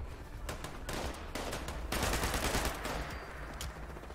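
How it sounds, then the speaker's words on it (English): Gunfire in the post-apocalyptic game Fallout 76 comes in rapid repeated bursts, fairly loud and dense over the whole stretch, with no speech. "What is that shooting?"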